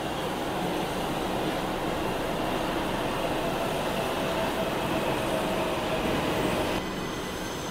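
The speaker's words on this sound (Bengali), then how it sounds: "এই উল্টো দিকে একটা ট্রেন ঢুকলো, এই ট্রেনটাই ব্যাক করবে," A Kolkata Metro train pulls into the platform, a steady loud rumble of wheels and motors with faint squeals, filling the station and easing off near the end.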